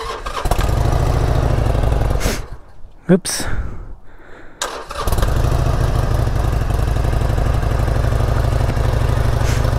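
A Harley-Davidson Forty-Eight motorcycle with stock exhaust starts up, its engine rumbling loudly, dropping out briefly mid-clip, then settling into a steady close idle, with a short spoken exclamation in the middle.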